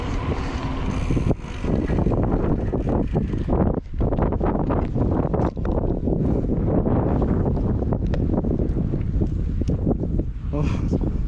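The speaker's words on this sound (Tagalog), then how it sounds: "mahangin." Strong wind gusts roar into the microphone on a seaside bike ride, a loud continuous buffeting rumble with brief dips, while faint voices are heard under it.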